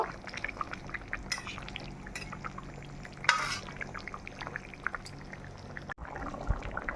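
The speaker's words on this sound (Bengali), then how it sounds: "এখন দিয়ে দিব ডিম, দিয়ে দিব দিয়ে অল্প সময় জাল করব।" Eggs go into a potato and vegetable curry already frying in a pan, with a soft, constant sizzle and bubbling throughout, a brief brighter splash and hiss midway, and light stirring clinks.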